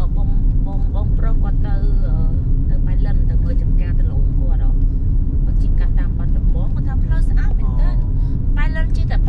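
Inside a car driving along a Cambodian country road, a low steady engine and road rumble continues throughout, with people chatting over it.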